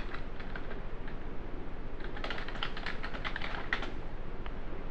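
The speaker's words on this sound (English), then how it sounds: "you can start typing in the information" Rapid keyboard typing, a steady patter of light clicks close to the microphone, with a busier burst of keystrokes toward the end.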